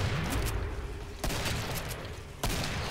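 Gunfire in the video game Killing Floor, three heavy shots spaced about a second apart over a dense, rumbling background of game noise.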